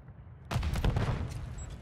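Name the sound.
gunfire in a video game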